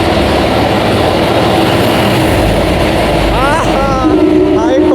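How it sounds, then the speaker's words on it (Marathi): A train engine rumbles through a long railway tunnel, a loud, steady, enclosed roar that fills the whole stretch, with brief squealing tones near the end. "आणि ही ट्रेन येते समोरून"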